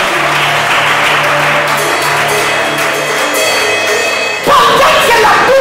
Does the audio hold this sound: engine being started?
no